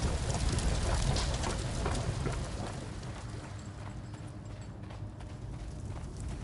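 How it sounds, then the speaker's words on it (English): Horse hooves clip-clopping in a steady rhythm, mixed into a dense hissing background like rain or crowd noise, moderately loud throughout. "Horse of Pedro Alvarado."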